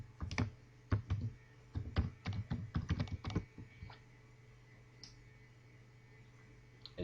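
Quick bursts of keystrokes on a computer keyboard as a web address is entered into a browser, crisp close clicks clustered in the first half, then near quiet with one stray tap.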